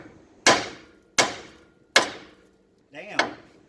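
Hammer smacking the lower ball joint on a first-generation Toyota Tundra: three sharp, loud metallic strikes about three-quarters of a second apart, each ringing briefly, then a softer scrape and a fourth hit.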